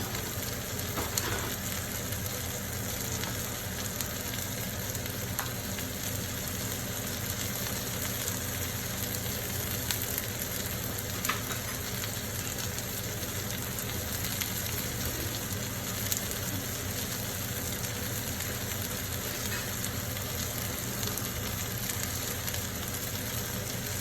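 Spiced barramundi sears in a single pan with a dense, even sizzle that holds at the same level throughout, and faint clatter from tidying up can be heard in the background.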